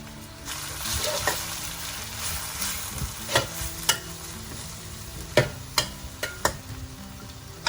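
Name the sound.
sauteing ground spice paste in pan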